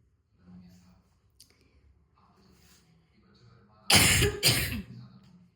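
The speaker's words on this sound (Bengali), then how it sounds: "ঠান্ডা পড়েছে না, তো ফের কাশি হয়ে গেছে আমার" Soft speech, then two harsh, loud coughs from a cold in quick succession near the end, close to the microphone.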